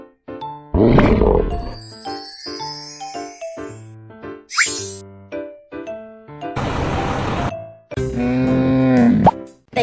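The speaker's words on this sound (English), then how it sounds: "The tiger lives in the forest." A tiger roars in a children's animal-care video game amid cartoon sound effects: plops, chimes and dings in short bursts, with a loud roar near the start and a growling cry near the end.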